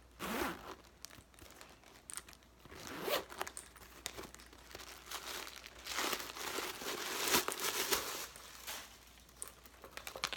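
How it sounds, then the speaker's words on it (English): A zipper with a leather pull on a leather bag is pulled open and closed several times, with crinkly rustling and soft handling noises, close up and moderately quiet. "This zipper has a leather pull."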